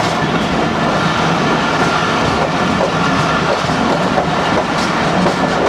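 The Jaffar Express passenger train rolls along the rails between Rawalpindi and Lahore near Jhelum, heard from onboard as a loud, continuous rumble with rhythmic wheel clatter and no talk.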